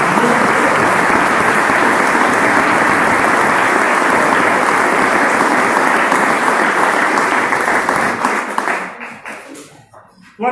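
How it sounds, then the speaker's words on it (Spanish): Applause fills the room at a homebrew beer competition awards ceremony, loud and dense clapping that holds steady for several seconds and then thins out and fades. "pues un fuerte aplauso"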